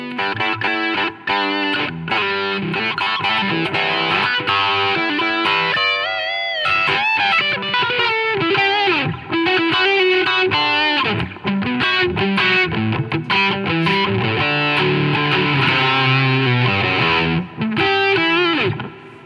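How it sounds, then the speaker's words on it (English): Heavily distorted electric guitar through a DOD Gonkulator distortion pedal plays continuously, with a gritty, buzzing overdriven tone and shifting chords and notes throughout. "it's actually like another distortion flavor"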